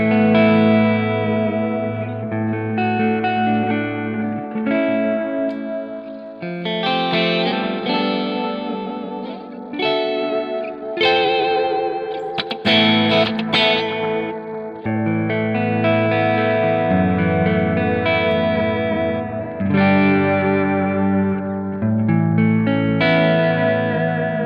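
An electric guitar with a Plexi clean tone and stereo delay, captured from an SLO 100 clone amp, plays sustained chords and short melodic runs for the whole stretch, loud and close with echoing repeats trailing each phrase.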